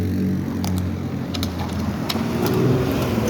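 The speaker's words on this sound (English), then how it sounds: "These cars, look at it, they're speeding." Cars speed along a street near a car and scooter crash scene. Their engines roar as a continuous, fairly loud traffic rumble with small rising swells.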